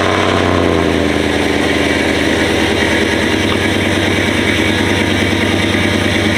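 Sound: lifted Chevrolet truck engine driving

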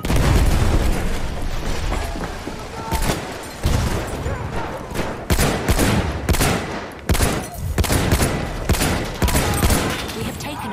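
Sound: grenade explosion and gunfire in video game Battlefield 1

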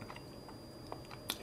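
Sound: chewing fried chicken nuggets

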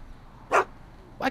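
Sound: dog barking in a video game

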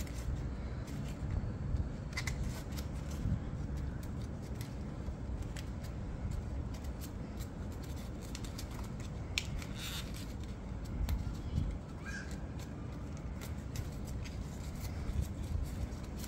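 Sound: folding paper to make F-15 Eagle air intakes

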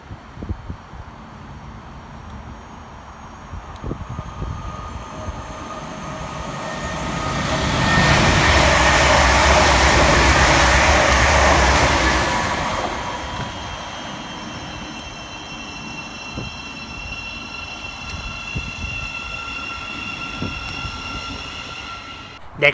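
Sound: passenger train passing fast through station

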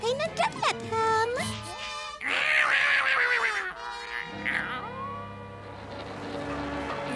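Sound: cat meowing in a Smurfs cartoon

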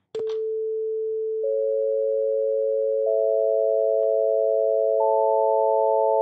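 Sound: A440 reference tone

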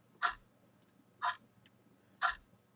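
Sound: clock ticking in the video game The Witch's House

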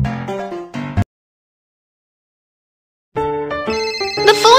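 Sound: phone ringing in a cartoon video game

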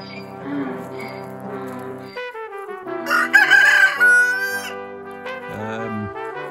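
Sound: chickens

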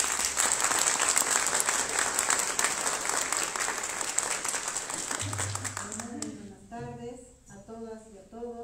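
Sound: audience applause

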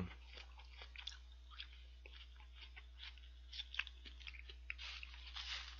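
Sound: chewing crunchy onion in McDonald's burger

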